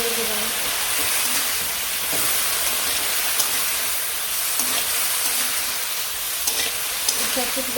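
Vegetables sautéing in a pan in a village kitchen, a steady low sizzle and hiss with faint scraping stirs and occasional soft clinks, fairly quiet and continuous, with a voice briefly heard.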